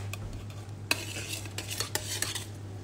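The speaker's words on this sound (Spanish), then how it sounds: "Ya, le voy a agregar un poquito de azúcar. Y voy a revolver." A spoon stirs sugar into a cup of tea, giving a run of light, irregular clinks and scrapes against the cup over a steady low kitchen hum, close and fairly quiet.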